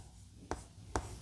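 Two brief, scratchy pen strokes as Chinese characters (hanja) are written by hand on paper. They are spaced about half a second apart in a quiet room, and no one speaks.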